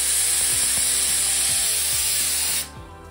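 A pressure cooker of jaggery rice with grated coconut and raisins lets off a loud, steady steam hiss on the stove, which cuts off abruptly near the end.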